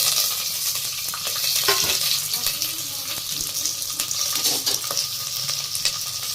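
Mustard seeds, garlic, green chillies and curry leaves crackle and sizzle in hot oil for a tempering, a steady dense hiss with scattered pops and faint stirring, close up.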